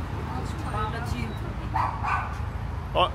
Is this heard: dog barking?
yes